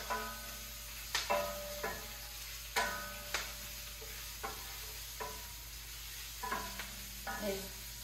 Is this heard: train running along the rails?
no